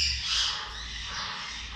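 A cockatoo lets out a loud, harsh, drawn-out squawk, close by and alone, lasting nearly two seconds.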